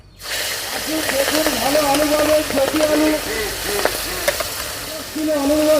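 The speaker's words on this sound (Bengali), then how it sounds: "এবারে আমি মাছগুলো দিয়ে দেবো তেল গরম হয়ে গেছে" Prawns fry in hot oil in a village kitchen, giving a loud, steady close-up sizzle and hiss that runs throughout with bubbling crackle, no talking.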